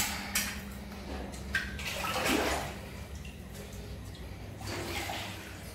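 Dirty rainwater from a stormy night downpour pours into the lower level of a building wing, a steady rushing, gurgling stream that runs continuously at moderate loudness with no talk over it.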